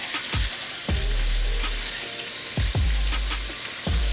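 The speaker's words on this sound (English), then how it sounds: "We can go ahead and add our meat into this mix." Ground beef, an 80-20 blend, sizzles loudly in a pan with browned garlic, with sharp bursts of crackling every second or so as the meat is broken up.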